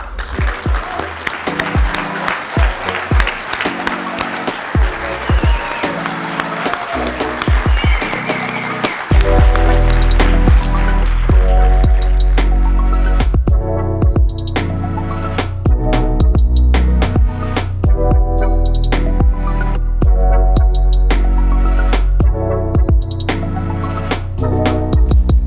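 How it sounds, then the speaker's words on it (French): Loud, sustained audience applause fills a convention hall in Cannes, starting dense and steady, then merging with thumping music and rhythmic clapping that keeps going to the end. "merci d'abord pour ces applaudissements"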